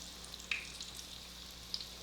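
Flour-coated chicken frying in oil kept at moderate heat for smothered fried chicken: a steady, soft sizzle with a few faint pops, close by and with no talking.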